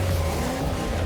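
A brand-new Lamborghini sports car engine drives with a steady, loud, close roar and no pauses.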